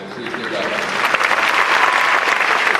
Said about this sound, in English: I want to ensure that the people in this room get a round of applause for all the hard work that went in